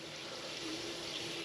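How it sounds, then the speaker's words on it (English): Water from a faucet pours into a vase in a continuous, close stream with a steady hiss and no breaks. "First we got to get some water from your outdoor faucet or kitchen sink"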